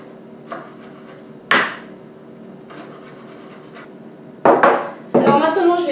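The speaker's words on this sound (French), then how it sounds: "Je vais d'abord commencer par hacher les feuilles de menthe." A few sharp knife chops through mint leaves on a wooden board, spaced irregularly, with faint background noise between strikes.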